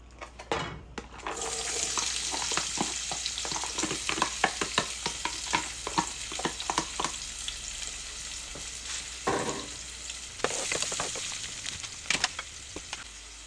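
Onions frying in oil for Ginisang Monggo, a steady close sizzle with many sharp crackles and pops, along with stirring scrapes and a brief watery rush partway through; no talking.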